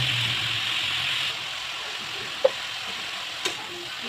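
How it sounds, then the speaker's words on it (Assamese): A spiced fish mixture with ginger, garlic, salt and turmeric is stirred in a pan, giving a steady low sizzle with two light clinks of the spoon against the pan. "আকৌ ভালদৰে এইখিনি লৰাই ল'ম"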